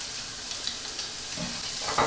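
Garlic and rosemary fry in a pan for a steak pie filling, a soft, steady sizzle with a few stirring scrapes and a louder clatter at the end, no speech.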